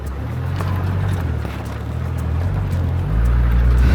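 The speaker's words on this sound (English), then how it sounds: "Full on four-wheel driving." A four-wheel drive vehicle grinds along off-road with a constant low engine drone and rumble, joined by occasional bumps and rattles as the suspension works over rough ground.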